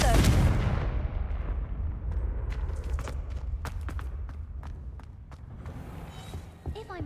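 A Confringo blasting spell cast in Hogwarts Legacy, heard as a loud, deep explosive burst at the start that rumbles and decays, followed by scattered sharp clicks and debris over a lingering low rumble.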